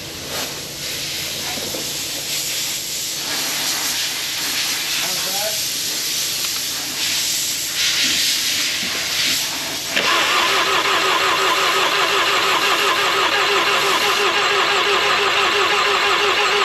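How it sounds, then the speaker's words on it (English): A car engine, its fuel system just primed after months of sitting, cranks with a rough whirring starter and then catches and settles into a steady running idle, heard close up. "let's see if it cranks"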